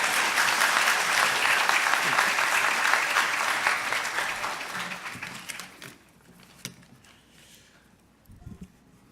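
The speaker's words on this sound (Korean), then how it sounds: "우리 강사 목사님 나오실 때 박수 한번 쳐주세요." A church congregation applauds as the guest pastor comes forward. The clapping is loud and dense at first, then tapers off and fades to near quiet after about six seconds.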